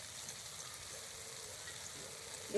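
Rohu fish kalia spice mixture with kasuri methi and garam masala sautéing in a pan, a faint, steady hiss of frying with a brief sharper sound at the very end.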